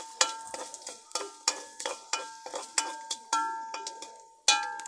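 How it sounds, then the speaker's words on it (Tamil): Mustard seeds and fenugreek frying in oil, heard as a close series of sharp metallic clinks and scrapes from a stirring spoon against the pan, each with a short ringing tail, quiet and without talk. "கடுகு வெந்தயத்தை போட்டுடலாம் வெந்தயத்தை போட்டாச்சு"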